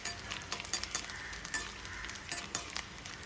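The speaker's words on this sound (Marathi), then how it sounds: "अशा पद्धतीने डिंक आपल्याला छान असा फुलेपर्यंत तळून घ्यायचं आहे" Edible gum (dink) frying in ghee for dry-fruit ladoo, a soft busy crackle and sizzle with small popping bursts throughout, faint and close.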